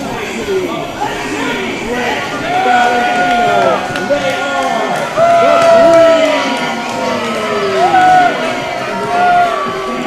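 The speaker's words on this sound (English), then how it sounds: "the crowd does not like their interruption" A wrestling arena crowd reacts loudly as the Dream Team tag team makes its entrance, with a dense, sustained roar of shouting, chatter and cheering that swells and stays loud throughout.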